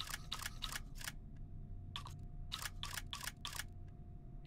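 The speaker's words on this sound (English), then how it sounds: "Let me just reload this thing." A gun magazine is reloaded in the VR game Hot Dogs, Horseshoes & Hand Grenades, heard as two quick bursts of sharp metallic clicks and ratchets, four or five snaps each, separated by a short pause over a low background hum.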